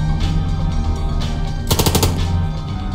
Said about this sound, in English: Alright, let's shoot the other wing.